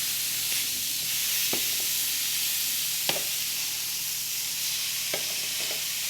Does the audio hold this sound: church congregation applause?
no